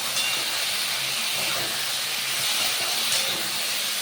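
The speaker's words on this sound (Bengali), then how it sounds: "এরপর দেখো আদা আর টমেটো দিয়ে দিলাম, এটাও ভালো করে ভেজে নেবো।" Chopped ginger and tomato frying in a pan, a loud, continuous steamy hiss that holds steady throughout with no one speaking.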